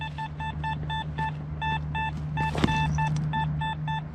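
XP Deus 2 metal detector sounding its iron signal over buried iron: a steady run of short, evenly spaced electronic beeps, loud and close, over a low hum and a brief rustle partway through.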